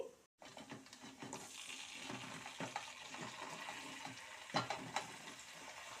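Ginger and other ingredients for upma frying in a pan, a soft steady sizzle with occasional stirring scrapes and clinks, fairly quiet and heard alone.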